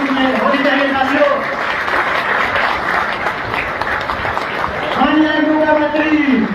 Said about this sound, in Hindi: तालियों की बजाय कम नहीं होनी चाहिए साथियों